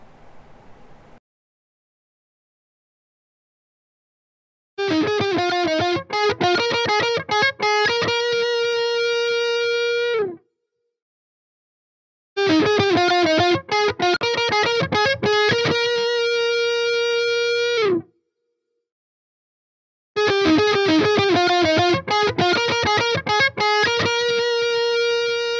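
Bursts of heavily distorted electric guitar strumming through a Mesa amp simulator with an SM57 impulse response, three separate loud passages of chords separated by silence, with a short faint tone at the start.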